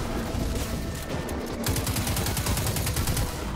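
Rapid automatic gunfire in the shooter game Destiny 2, a dense stream of loud evenly spaced shots that turns sharper and more regular halfway through, over a busy game soundscape.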